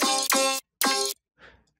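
Vocoded synth chords with resonators switched on, heard in a breakdown of a track: two long, bright, buzzing tonal stabs, a short gap, a third stab, then a faint filtered tail, all loud and upfront with no talk.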